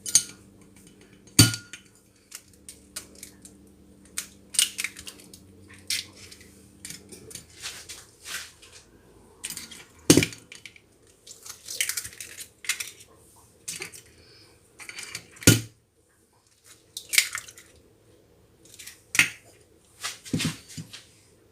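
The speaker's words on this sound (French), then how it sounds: "Ensuite, nous allons incorporer les œufs." Four eggs cracked into a bowl for cherry clafoutis batter, a series of sharp, isolated clinks and taps against the bowl with quiet pauses between, close and fairly faint.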